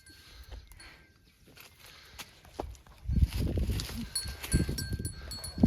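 A farm buffalo with a swollen, infected ear shuffles and shifts while being held. Soft thuds and scuffs start quiet, then turn louder and busier with close movement in the second half, with faint background noise and no clear speech.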